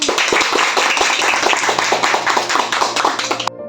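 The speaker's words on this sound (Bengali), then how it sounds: "আমরা তাদের উদ্দেশ্যে করজলে হাততালি দিই" A group claps hands together at a founding anniversary celebration, a dense, steady burst of overlapping claps held close and loud for several seconds before breaking off near the end.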